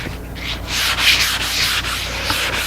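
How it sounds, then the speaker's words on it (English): Fine sandpaper rubs over a pine board coated twice with blotch control, a close, continuous scratchy hiss in several back-and-forth strokes with no talking. "I'm just touch sanding it."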